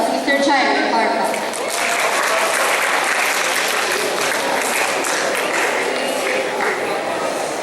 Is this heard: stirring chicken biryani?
no